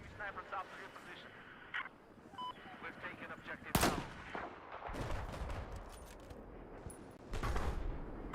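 Gunfire in the video game Battlefield 4 during multiplayer play, with sharp bursts and volleys cracking out at intervals under a player's ongoing talk.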